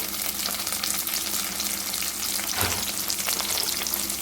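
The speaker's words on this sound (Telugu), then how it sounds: "వేగిన ఉల్లిపాయల్లో ఇలా కాస్త కరివేపాకు వేసాను." Curry leaves hit hot oil with fried onions in a broad hiss of frying, a steady crackling sizzle with one brief louder burst partway through, close and without talk.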